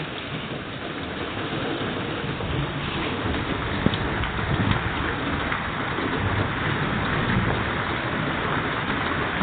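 Heavy rain falls in a continuous roaring hiss, close and steady throughout, with no voices and no clear thunder.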